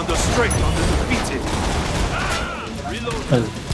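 Dense, continuous gunfire and fusillade from the Killing Floor 2 video game roars nonstop at close range, with mechanical clatter mixed in and a short louder burst near the end.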